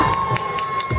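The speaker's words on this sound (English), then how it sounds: "please give a nice round of applause to Danny and Lisa Asaf" A crowd outdoors at Nathan Phillips Square in Toronto claps and cheers loudly at a community event, a dense continuous wash of noise with a steady tone running through it.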